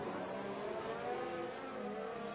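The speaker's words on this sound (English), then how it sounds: "You hear the buzz of that Mercedes as it starts to get closer and closer to the other Mercedes car" Buzzing Mercedes-powered race car engine in the F1 2018 game, a steady high whine held close and loud throughout, with no speech.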